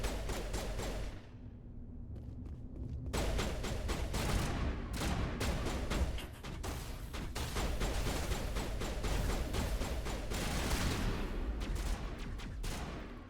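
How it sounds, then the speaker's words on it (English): Rapid sustained gunfire from shooting aliens in the video game Mass Effect, a dense barrage of loud overlapping shots with a brief lull before resuming and continuing heavily throughout. "Let me shoot you."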